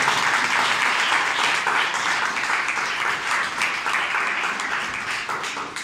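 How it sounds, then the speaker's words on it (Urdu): A church congregation at a sermon breaks into loud, dense, sustained applause that fills the room for about six seconds, tapering slightly at the end. "آئیے خدا کے کلام اور اس کی قدرت کے لیے زوردار تالیاں بجاتے ہیں"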